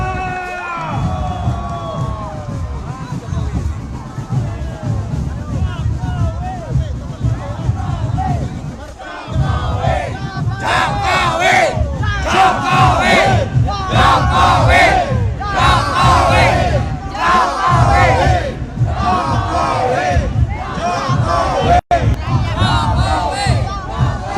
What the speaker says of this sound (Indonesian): Tepuk tangan untuk marching band kita.